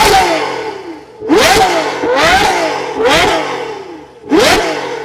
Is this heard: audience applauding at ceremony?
no